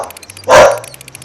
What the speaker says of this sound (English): Just ignore my dog